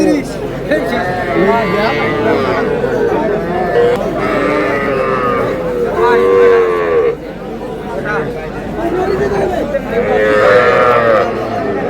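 Young bull calves mooing repeatedly at a Pabna livestock market, several loud nearby calls rising over the busy market noise, with people talking close by.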